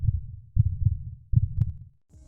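Heartbeat sound effect for a Halloween horror story, deep muffled thumps in paired beats that repeat steadily, close and alone with no talk.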